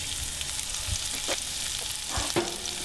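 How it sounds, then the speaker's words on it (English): Shallots sauté in clarified butter in a hot pan, giving a steady, close sizzle with a few soft stirring bumps and scrapes. "We're going to saute these just for a few minutes to lightly caramelize them in the clarified butter."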